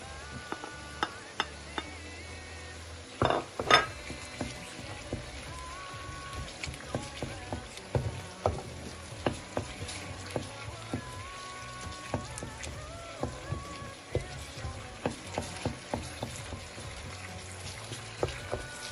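Onions and tomato paste sauté in a pan for lentil köfte, producing a steady low sizzle scattered with frequent clicks and scrapes from stirring, close and fairly quiet.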